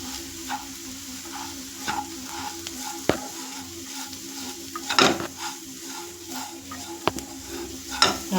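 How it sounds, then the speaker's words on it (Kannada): Onions with turmeric, coriander powder and crushed dry chili sautéing in a pan for chicken gizzard fry, a steady sizzle broken by repeated sharp clinks and scrapes of a spoon against the pan. "ಈಗ ನಾವು ಎಲ್ಲವನ್ನು ಸೇರಿಸಿ ಚೆನ್ನಾಗಿ ಈರುಳ್ಳಿ ಜೊತೆ ಬಾಡಿಸ್ಕೊಳ್ಳೋಣ"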